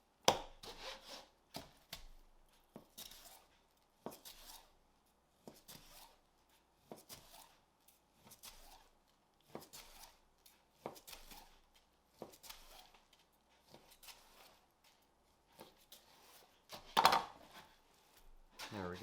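A knife cutting thin slices from an eye of round beef, producing repeated short, soft slicing strokes at an uneven pace, close but faint, with quiet gaps between cuts.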